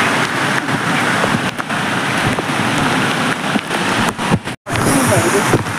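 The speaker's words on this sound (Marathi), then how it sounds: "पाऊस सुरू आहे जोरात" Heavy monsoon rain falls steadily near a waterfall, a loud continuous hiss lasting throughout with brief dips, with faint voices now and then.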